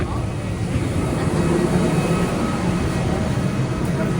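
A steady, low engine rumble drones without pause as a jet taxis slowly after landing at Amritsar in rain, with a broad hiss over it.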